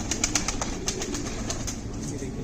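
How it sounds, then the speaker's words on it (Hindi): Several Panjabi pigeons give a run of soft, close cooing notes, repeated in a quick uneven rhythm over a steady hiss of background noise. "कबूतर को आ रहा नहीं है"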